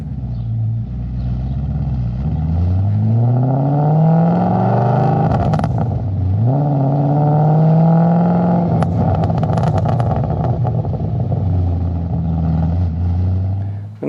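A high-mileage Audi RS4 V8 engine revs up and down in long, loud sweeps, close and steady for the whole stretch with no talking.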